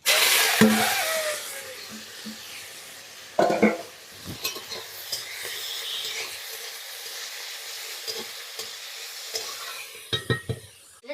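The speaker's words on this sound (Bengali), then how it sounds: "চিংড়ি মাছটা ভেজে নিচ্ছি" River shrimp fry in a pan for cabbage pakoras at a Sundarban village kitchen, a steady sizzling hiss with occasional sharp clinks and scrapes of a utensil against the pan.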